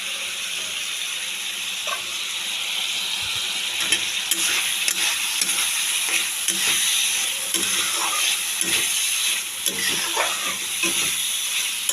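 Spice paste frying in white oil in a pan for a Bengali banana flower and prawn dish, a steady close sizzle and hiss with frequent scraping stirs throughout and no talking.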